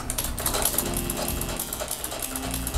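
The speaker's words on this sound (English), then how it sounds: "Pick up the needle, move the fabric," A sewing machine stitching scallops along fabric, a dense continuous mechanical chatter with rapid ticking and a steady motor hum, close and fairly loud throughout.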